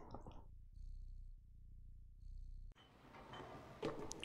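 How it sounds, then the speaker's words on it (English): A cat purrs in the video game Stray, a soft continuous rumble heard close and alone for most of the clip before a burst of broader game noise takes over. "I hear purring."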